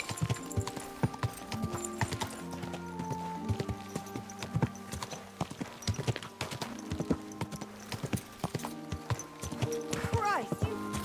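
Horse hooves clip-clop steadily in Kingdom Come Deliverance 2, close and rhythmic across the whole stretch, with a horse whinnying near the end and voices speaking over the footfalls.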